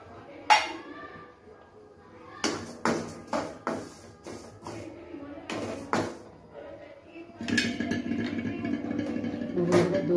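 Sesame seeds being roasted in a pan give off a series of metallic clinks and scrapes of a spoon against the pan, close and intermittent, with someone talking throughout.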